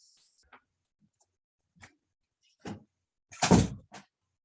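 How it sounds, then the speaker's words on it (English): A door is shut in a home, with a few light knocks and rattles leading up to one louder thud as it closes, in an otherwise quiet room with no talking. "I'm just gonna shut the door real quick"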